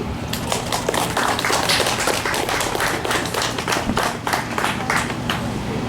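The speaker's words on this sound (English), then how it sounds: "Let's give them a round of applause." Audience applause for Silver Principals Award honorees at a 5th grade culmination ceremony, a dense, steady wash of many hands clapping throughout, loud and continuous.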